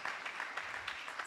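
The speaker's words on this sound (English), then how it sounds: "We ought to clap our hands right there" A church congregation claps briefly, a short patter of scattered applause heard faintly and at some distance.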